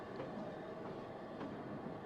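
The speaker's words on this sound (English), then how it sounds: "This is running alongside a coal train, which is headed by a Great Western 282 tank." A 7mm O gauge model LMS mineral train, hauled by an ex-London and North Western 0-8-0 goods engine, runs on a layout track with a faint, steady rolling rumble and soft clicking of wheels.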